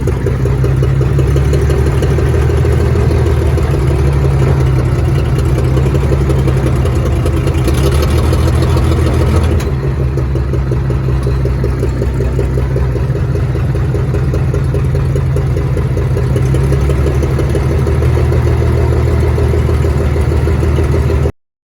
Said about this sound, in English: 1941 Chevrolet G506 on the scene.